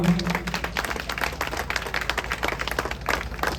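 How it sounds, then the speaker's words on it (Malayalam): Crowd clapping at a tug-of-war final prize ceremony, a fairly quiet, continuous patter of many hands over a low background hum, lasting a few seconds without voices. "നല്ലൊരു കയ്യടിക്കുക"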